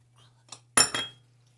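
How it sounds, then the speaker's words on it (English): Butter being mixed into a streusel crumb topping with a utensil in a bowl: a faint tap, then one louder scrape and clink close up, over a low steady hum. "we're going to mix it until it's nice and crumbly"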